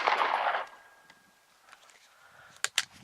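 A .300 AAC pistol fires cast zinc bullets over a 5.8-grain powder load. After a brief noisy stretch and a quiet gap, two sharp, loud reports crack out close together near the end.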